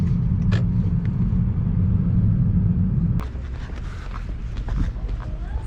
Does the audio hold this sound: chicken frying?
no